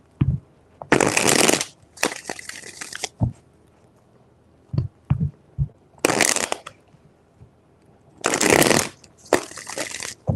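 Three bursts of tarot cards being riffle-shuffled, crisp and close, with brief taps and soft handling noises between them.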